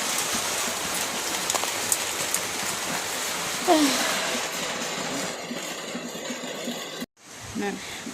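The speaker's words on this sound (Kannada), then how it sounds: "ಮಳೆ ಬಂದ್ಬಿಡ್ತು ಜೋರು ಮಳೆ ಜೋರು ಮಳೆ ಬಂದ್ಬಿಡ್ತು" Heavy rain falls in a dense, loud, continuous roar, easing a little toward the end before a sudden cut, with scattered drips and a brief voice audible near the close.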